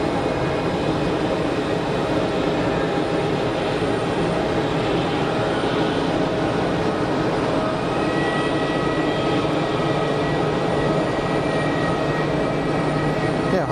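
An Airbus A330 airliner of a Canadian carrier taxis at Geneva Airport, giving a steady, broad engine rumble and whine that holds at an even level throughout with no pauses.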